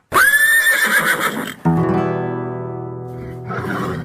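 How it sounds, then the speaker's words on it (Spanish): A horse whinnies loudly and close by, a long shrill neigh that fades into a sustained lower tone lasting a couple of seconds, with no talking. "Ahí tiene un saludo de relincho para su padre, el padrillo"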